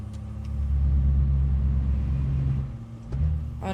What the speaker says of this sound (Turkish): Egzoz sesleri çok güzel geliyor yalnız.